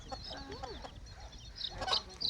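A native village hen clucks softly a few times nearby while being held, short throaty calls over a quiet background, ending with a couple of sharper squawks.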